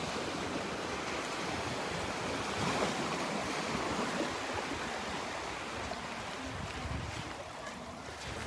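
Rough surf crashes onto the beach at Delnor-Wiggins, a constant loud broadband roar of breaking waves with some wind, close and sustained without pause.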